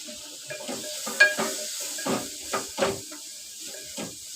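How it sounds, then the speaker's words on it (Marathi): Tomatoes tipped into hot oil with toasted flour for a mushroom masala, giving a soft sizzle with a few stirring scrapes and clinks of the pan at close range. "आता मी ह्याच्यात टोमॅटो घालते पीठ चांगलं भाजलं आहे तेलामध्ये आणि टोमॅटो घालते"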